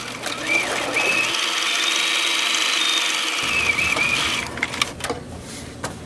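A sewing machine runs steadily, stitching a quarter-inch seam through fabric on an eReader sleeve cover, a continuous whirring hum lasting about four seconds before stopping, followed by a few soft handling clicks.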